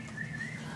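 A marine mammal's whistle from an underwater recording, a thin tonal line that rises, holds and then fades over a little under a second, above a steady low background hum.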